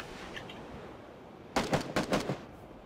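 Burst of several gunshots from the battle royale game PUBG, fairly distant and moderately loud, arriving in a quick cluster of sharp cracks after a quieter stretch.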